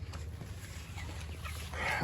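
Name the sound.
meat chickens clucking in coop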